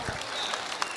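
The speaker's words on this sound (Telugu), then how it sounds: "అప్పుడప్పుడు చప్పట్లు కొడతా ఉండాలి" Anniversary event audience applauding, a soft scattered patter of hand claps from a distant crowd, with a few sharper individual claps poking through the even wash.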